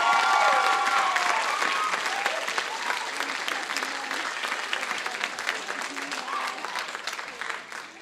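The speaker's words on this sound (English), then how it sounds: "you can applaud them, they deserve it." Sustained applause from a crowd at a graduation ceremony, loud at first and slowly fading, with dense clapping throughout and a voice briefly audible early on.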